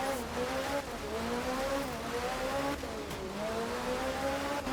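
A rally car in the video game Art of Rally drifts through corners, its engine droning and rising and falling in pitch against a steady background of tyre and gravel noise.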